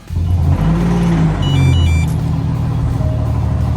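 Alfa Romeo Giulia Quadrifoglio engine heard outdoors, a loud, steady, close engine note with a deep rumble and a brief higher-pitched rise in tone partway through.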